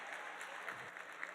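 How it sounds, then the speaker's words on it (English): Steady audience applause fills a charity auction dinner for a dog rescue, a dense, even patter of many hands clapping at moderate distance with no voices over it. "Give them a big round of applause."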